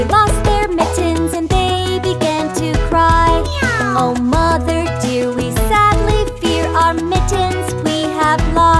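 A cat meows in an animated kids' song, likely a voice imitating the animal, with loud, bright repeated meows sung over a busy musical backing at an upbeat pace.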